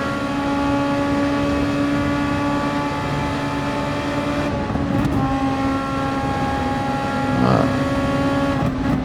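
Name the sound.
racing car engine in Super Formula video game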